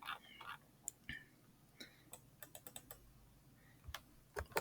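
Quiet computer keyboard typing in scattered, uneven bursts of light clicks with short pauses, faint against a low background hum, no talking.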